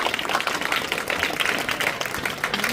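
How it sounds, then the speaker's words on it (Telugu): An audience at a Telangana American Telugu Association event claps steadily, dense sustained applause from a crowd filling the room without pause. "మన ఐఎస్ఆర్ కి అందరూ ఒకసారి చప్పట్లు వేసుకోండి"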